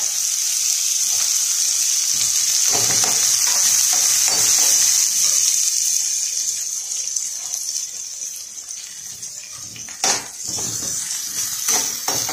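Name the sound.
sautéing onion and curry leaves in oil for poha upma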